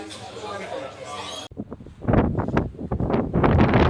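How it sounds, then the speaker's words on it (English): Gusty wind buffeting the microphone outdoors in the seaside town of Rhyl, rough low rumbling bursts across the last few seconds, following a brief stretch of background chatter. "Oh, this wind."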